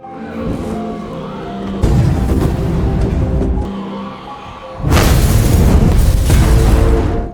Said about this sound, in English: A massive explosion followed shortly.